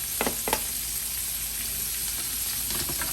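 Parsley, celery and chopped aromatics sautéing in a pot, with a soft steady sizzle and a few brief stirring clatters near the start and end.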